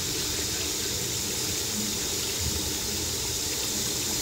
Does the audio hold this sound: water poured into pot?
yes